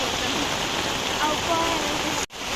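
Heavy monsoon rain in a coastal Tulu village roars as a constant, thick wash of water close by, while someone talks over it, with a brief dropout near the end.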